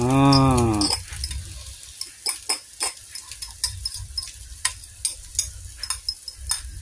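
A sustained sizzle of Maggi noodle murtabak with cheese frying in a pan, with a brief tonal squeal at the start and repeated scraping and tapping of a utensil against metal.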